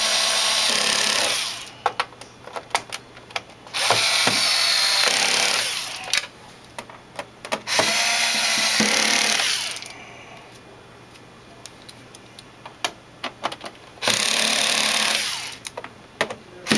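Power screwdriver driving out the screws of a PC monitor during repair, three long loud whirring runs separated by quieter gaps with small clicks and handling noises.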